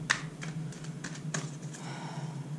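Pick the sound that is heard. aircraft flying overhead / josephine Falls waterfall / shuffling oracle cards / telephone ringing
shuffling oracle cards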